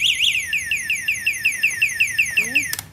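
A motor scooter's anti-theft alarm warbling loudly and rapidly in a repeating rising-falling pattern, ending with a brief chirp, close by.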